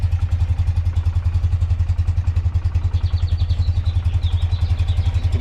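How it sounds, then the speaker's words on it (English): A 1993 BMW R100GS boxer-twin motorcycle runs on half choke with a steady, fast, low thumping beat. The engine is close and loud, and it plays alone, with no talking over it. "Change it to half choke. The bike's going a little bit better."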